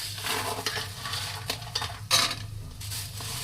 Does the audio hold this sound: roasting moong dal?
yes